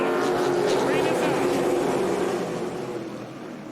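Late model race cars roar on throttle at a NASCAR weekly series oval, a broad engine drone under a race announcer's commentary that fades a little toward the end.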